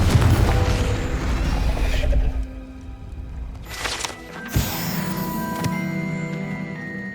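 A Confringo blasting spell from Hogwarts Legacy goes off with a sudden sharp crack and burst partway through, set against a steady, rumbling game ambience with no talking.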